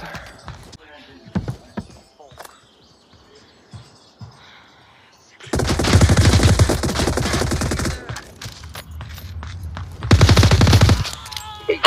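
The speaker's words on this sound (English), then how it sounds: "Hey, can we not shoot for once" Rapid automatic gunfire from the VR shooter Onward, loud bursts of sustained shots with a second burst later, preceded by quieter clicks and faint shuffling sounds and light talk.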